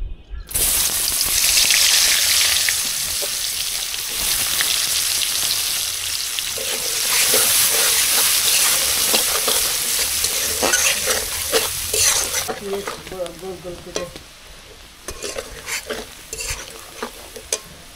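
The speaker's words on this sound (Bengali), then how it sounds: "মাছ ভাজার এই তেলেই মাছ রান্না করার জন্য একটু পেঁয়াজ বেরেস্তা করে নেব" Chopped onion frying in hot fish-frying oil, a loud close sizzle with repeated spatula stirs and scrapes against the pan, settling into lighter crackling toward the end.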